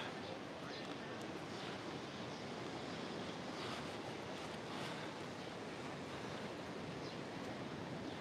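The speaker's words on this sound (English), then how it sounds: "The waves aren't that good." Ocean surf rolls steadily onto the shore near surfers, a continuous wash of breaking waves mixed with wind buffeting the microphone, with no clear voices.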